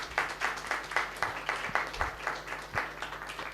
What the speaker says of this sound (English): Can we have a big round of applause for both of them?